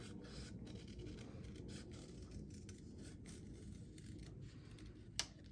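Paper snips cut slowly around the outside edge of a stamped paper image, giving quiet, close crisp snipping and scraping, with one sharper click near the end.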